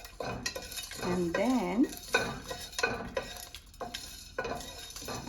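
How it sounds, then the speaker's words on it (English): A pan of dry-roasting food is stirred with a utensil, giving scraping and clinking strokes in an irregular rhythm; a voice speaks briefly over it. "just dry roast it until you get the smell, the fragrant smell"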